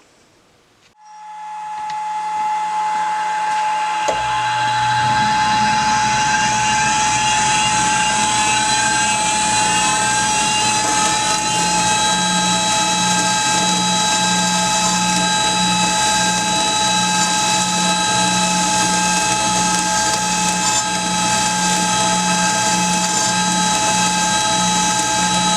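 A dressing stick is held against a spinning resin-bond grinding wheel, giving a loud sustained high whine with a steady ringing tone that starts abruptly after a few seconds and continues unbroken, with no talking.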